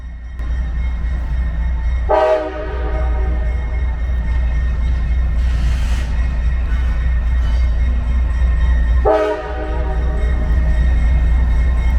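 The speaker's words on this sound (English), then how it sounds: "this train pulling into the yard right now is a grain train, a grainer." A loud grain freight train rumbles steadily close by, sounding two long horn blasts several seconds apart as it rolls into a rail yard in Loyall, Harlan, Kentucky.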